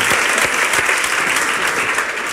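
A live audience claps loudly and steadily at an on-stage VR dating show after a volunteer is called up from the front row, dense applause filling the whole moment without speech.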